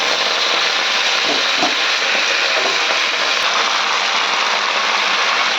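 Leafy greens fry in a pan with garlic and nigella seeds, making a steady broadband sizzling hiss with a few soft knocks, heard close and unbroken for several seconds with no talk.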